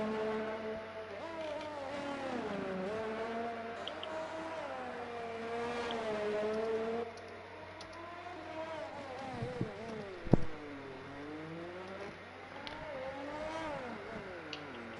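AlphaTauri Formula racing car on medium tyres lapping Monaco in a racing game, the engine's high whine rising and falling steadily through gear changes, with a brief sharp knock midway and a faint voice over it.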